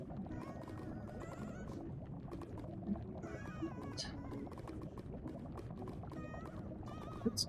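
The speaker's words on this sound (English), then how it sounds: "I might just use the extreme sound muffler to shut down some of these bubbles and pops" Lava bubbling and popping in the Minecraft OceanBlock modpack, a faint steady wash of soft bubbling broken by scattered small pops, with a couple of sharper pops near the end.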